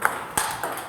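Table tennis balls struck with forehand strokes, three quick hollow pings spaced a few tenths of a second apart, bright and close in a room.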